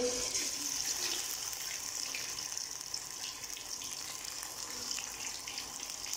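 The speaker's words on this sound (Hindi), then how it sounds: "तो अब हम इसके अंदर चिकन के पीसेस डालेंगे।" Chicken pieces frying in well-heated oil for a chicken broast, giving a steady, even hiss and crackle that stays at a constant moderate level throughout, with no talking.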